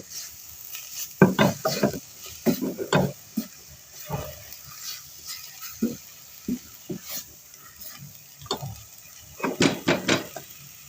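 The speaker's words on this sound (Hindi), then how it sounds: "अच्छे से मिक्स कर लेंगे इन मसालों को" Spices being stirred in a hot pan for a minced-meat stuffing for bitter gourd: repeated scraping strokes of a spoon against the pan over a steady, soft sizzle, coming in uneven bursts with short pauses between.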